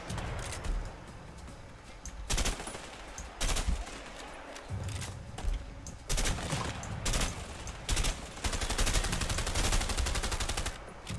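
Gunfire in the A Way Out video game during a big shootout, with repeated loud bursts of rapid automatic fire broken by brief pauses, near and continuous.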